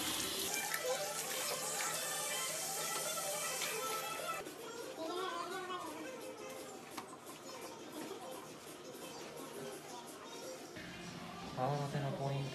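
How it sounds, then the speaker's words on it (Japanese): Hot water runs in a steady, continuous rush while hair and scalp are rinsed at home, with a voice talking over it throughout. "約3分間から5分ほどはしっかりと、頭皮に髪の毛に全体にしっかりお湯が行き渡るようにしていってください。"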